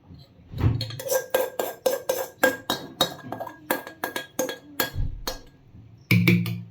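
Spoon stirring a boba milk drink in a glass, rapid ringing clinks of metal against glass in a steady rhythm, a brief pause, then a final burst of clinking, close and clear with no voice.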